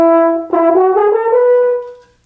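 Natural horn in F sounding a rising sequence of overtone-series notes, each held briefly in a smooth legato climb; bright, rich harmonic tone played alone and close.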